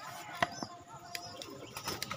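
Pigeons coo softly inside a loft, a few low murmuring calls with scattered clicks and rustles over a quiet, steady background.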